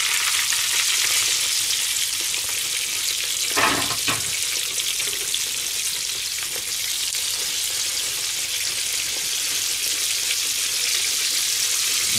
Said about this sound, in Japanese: じゃあこれ2度目あげましょう